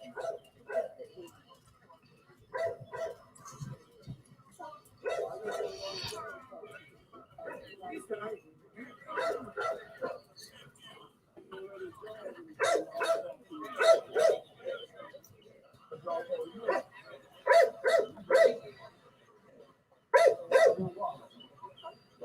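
Several dogs bark in short bursts from a residential street, the barks recurring through the clip and mixed under ongoing conversation from nearby people.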